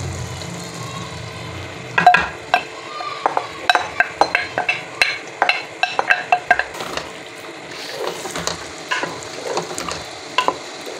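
Yogurt goes into a frying tomato masala and a spoon stirs it against the pot, giving a steady string of sharp scrapes and clinks over a soft sizzle for several seconds.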